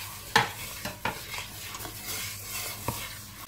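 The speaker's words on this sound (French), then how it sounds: "Et je mélange." Pearl pasta stirred into melted butter, a utensil scraping the pan in a few short separate strokes over a soft low sizzle, close and fairly quiet.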